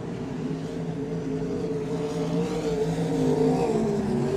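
Pro sprint cars race around Cairns Speedway in a feature race, their engines forming a loud continuous roar with rising and falling tones as the pack circulates.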